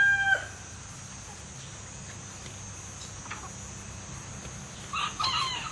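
Faint chicken clucks come in scattered, brief bursts over a quiet outdoor background, with a slightly louder cluster near the end.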